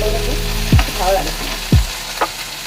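Okra and fish pieces fry in a pan with salt and turmeric, crackling in a steady sizzle punctuated by a few sharp scrapes and knocks of a stirring spatula, with no talking.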